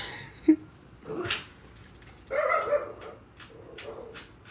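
A dog barks several times close by, short sharp yaps with a whimpering note and gaps between them, loud against a quiet room.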